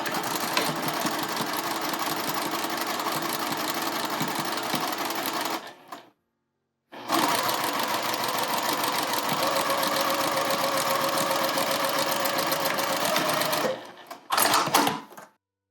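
A sewing machine stitches a Hong Kong seam finish with bias binding, running in a steady, fast, even whir for several seconds, stopping briefly, then running again at length before a final short burst.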